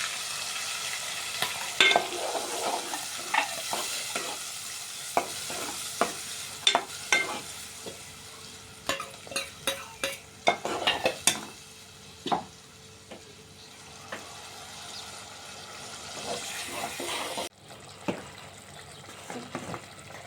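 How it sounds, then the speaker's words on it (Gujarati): A thick tomato and onion gravy frying in a pan with crushed ginger and garlic, steady sizzling with repeated scraping and stirring strokes, close and fairly loud, with no voices. "ટમેટા અને ડુંગળી આપણે ગ્રેવી નાખી દઈશું."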